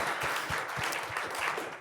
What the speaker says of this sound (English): That also deserves a clap.